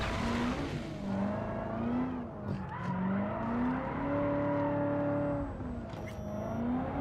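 A car driving and oversteering in the video game Cyberpunk 2077, a loud close engine whose pitch rises and falls with acceleration and gear changes, with faint tire squeal and no talk over it.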